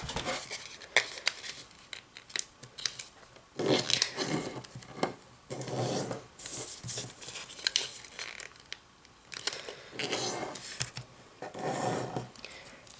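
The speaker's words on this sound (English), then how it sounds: "Now, fold the edges to the pinch mark." Sheets of paper are folded by hand for an origami ninja star, giving close crinkling, rustling and sharp creasing swipes in irregular bursts, with no talking.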